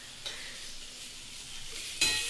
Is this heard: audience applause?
no